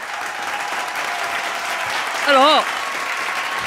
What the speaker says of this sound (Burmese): လက်ခုပ်တန်လေးတီးပေးပါဦးခင်ဗျာ